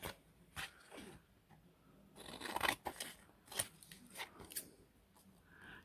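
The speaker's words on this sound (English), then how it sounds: "So I'm going to cut it because it's going to be quicker to cut." Scissors snipping through paper for a handmade junk journal folio, with a few soft, close cuts and light paper rustling in a quiet room.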